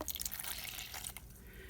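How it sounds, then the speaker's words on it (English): Water poured into a small plastic Jello cup for mixing plaster gives a brief, close splashing trickle that tapers off within a couple of seconds. "First, I'm going to put in 1 part water"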